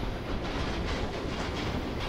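A passing train rolls along parallel tracks beside the Union Pacific Big Boy steam locomotive, producing a steady, close rumble with faint rhythmic wheel clatter and no voices.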